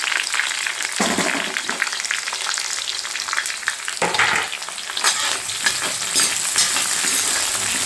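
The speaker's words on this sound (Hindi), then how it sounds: "जल्दी से हमारी प्याज जो है वो भुनने वाली है।" Onions frying in a pan until golden and crispy, a steady close sizzle and crackle throughout, with stirring bursts around one and four seconds.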